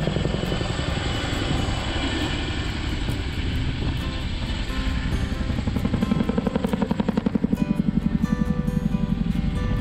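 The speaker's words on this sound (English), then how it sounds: "Probably the biggest secret of the U.S. Army is the Chinook helicopter." A loud, close Chinook helicopter drone with rapid rotor thumping that grows more pronounced and rhythmic toward the end.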